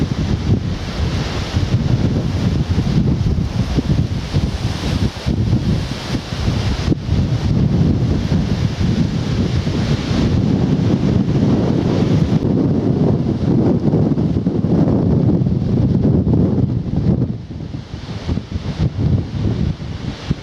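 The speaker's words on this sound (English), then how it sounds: "Much better afternoon now, although still windy." Steady wind buffeting the microphone on a countryside walk near Church Stretton, a loud continuous roar with gusty low rumble throughout, easing slightly near the end.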